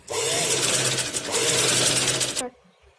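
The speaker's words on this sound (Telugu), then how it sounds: "ఈ నెక్ చుట్టూగా ఇలా చివరి వరకు స్టిచ్ చేసుకోవాలి." A sewing machine stitches around the neckline of a long frock, a loud, close, steady mechanical whirr that runs continuously for over two seconds and then stops abruptly.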